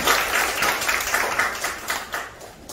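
Audience applause at a Korean National Assembly policy debate, a steady wash of many hands clapping that fills the room and tapers slightly toward the end.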